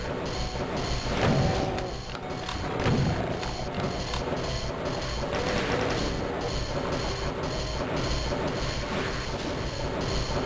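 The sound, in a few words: chaingunner enemy firing its chaingun in Doom video game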